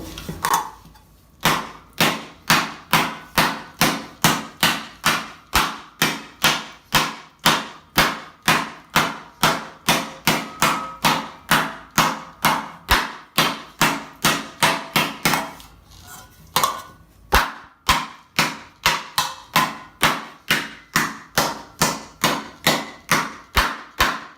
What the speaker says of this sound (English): So now we're going to try to hit it even harder. Each time it's progressively more hammering.